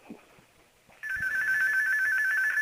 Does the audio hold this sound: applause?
no